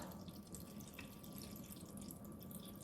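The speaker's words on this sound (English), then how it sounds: "here's where you put the water in. And I'm just gonna fill it up." Water runs faintly into a three-liter hydroponic garden reservoir, a soft continuous trickle with a light hiss and no talking.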